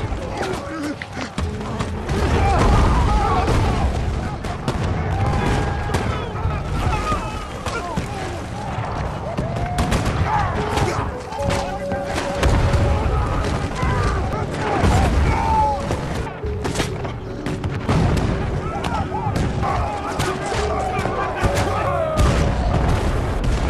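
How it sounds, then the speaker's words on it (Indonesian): A war film battle scene packed with dense gunfire and heavy bomb explosions, booms and thuds rolling continuously under a narrator's voice for the whole stretch. "mereka langsung disambut dengan tembakan sekaligus gempuran bom"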